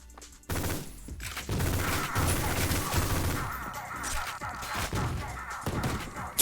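A fire-lighting weapon in the Ion Fury video game discharges in a loud, sustained roaring burst with crackling, thudding impacts and clattering over several seconds, close and dense, without voices.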